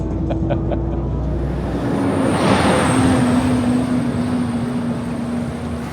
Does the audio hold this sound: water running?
no